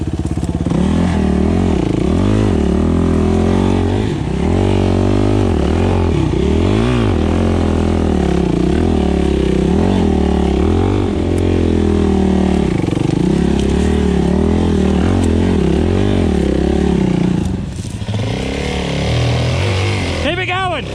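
Yamaha WR450F dirt bike ridden along a trail with a failing clutch, its engine revving up and down loudly and close the whole way, with voices shouting over it.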